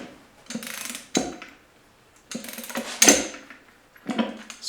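A ratchet wrench tightens carrier bolts on a Ford 8.8 axle in a Jeep YJ, close up, in short bursts of rapid clicking separated by pauses.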